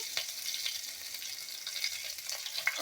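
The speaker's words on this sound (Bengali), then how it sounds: "কাঁচা লঙ্কা ফোড়ন দিলাম" Green chilies and black cumin sizzle in a generous amount of hot oil over mustard paste for tempering, a steady close crackling fry with occasional sharper pops.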